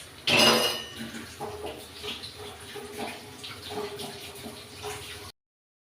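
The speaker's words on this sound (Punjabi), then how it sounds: "ਮੈਂ ਇੱਕ ਵਾਰੀ ਹੱਥ ਧੋ ਲਵਾਂ" Tap water runs steadily in a home kitchen while hands are washed, a close, continuous splashing wash with faint clinks, stopping abruptly near the end.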